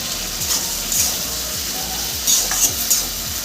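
Okra and potatoes sizzle in a pan after a little water is added, a steady close frying hiss with brief louder flares of spattering.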